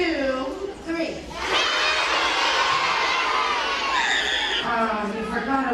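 A crowd of schoolchildren at a school Jump 4 Health event screams and shouts together, a loud sustained high-pitched roar that swells after a brief lull and carries on to the end.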